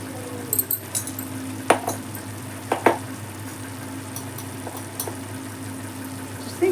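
A spoon stirs chili powder, pepper, garam masala, coriander powder and salt together in a pan for a spinach egg curry, making a few scattered scrapes and light clinks over a steady low kitchen hum.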